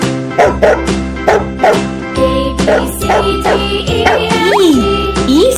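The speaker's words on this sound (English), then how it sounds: "Look, a dog." A dog barks repeatedly in a quick, rhythmic series of loud, close bow-wows, with a few yips and whimpering slides at the end over a steady musical background.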